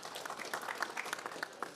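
An audience at a climate action dialogue session gives a round of applause, a brief, even patter of many hands clapping at moderate volume with no talking over it.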